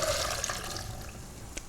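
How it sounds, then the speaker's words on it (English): Soaking water from a cup of pre-soaked cashews is drained off, giving a brief, faint, steady watery rush and trickle. "So once they're soaked, 24 hours later, we drain the water out."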